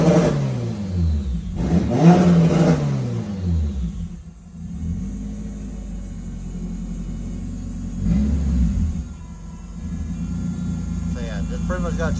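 A car's engine revs up after a rear differential swap, with deep rising and falling sweeps of rpm up close, then settling into a steady idle before another rev. Someone talks over it.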